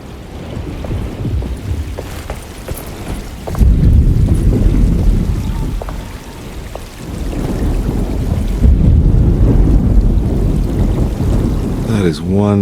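Stormy weather in the Alone in the Dark remake: steady rain and gusting wind roar throughout, swelling louder midway, with a rising tonal sweep near the end.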